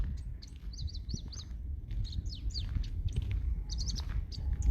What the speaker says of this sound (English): Lots of beautiful bird sounds.